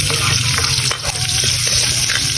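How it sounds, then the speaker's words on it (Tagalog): Steady, loud sizzling and crackling of garlic frying in hot oil, continuous throughout with occasional stirring noises. "Lagyan na tayo ng bawang."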